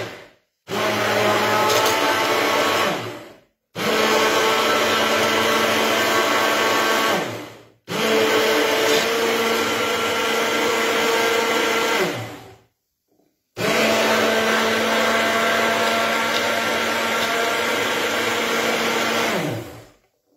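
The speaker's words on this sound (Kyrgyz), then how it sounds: "анан биз блендер менен эмне кылабыз?" A blender grinds almonds for almond milk in four long bursts of steady, loud whirring motor noise, each run separated by brief pauses and shifting slightly in pitch as the nuts break down.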